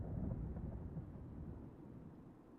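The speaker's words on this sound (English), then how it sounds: "I hear thunder. Rain is soon to follow." Thunder rumbles in a video game, a deep and faint sustained roll with no voices over it.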